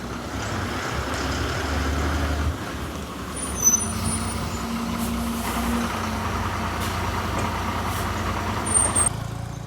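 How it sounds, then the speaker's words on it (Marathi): A Pimpaleshwar Travels AC sleeper coach bus pulls up at a roadside stop in Guhagar, its engine rumbling steadily amid road traffic, with a short hiss of air brakes partway through. "तर मित्रांनो आपली बस आलेली आहे."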